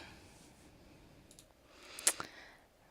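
A computer mouse clicks while an electronic purchase order form is filled in, a single sharp close click standing out after a faint quiet stretch, with a couple of softer taps around it.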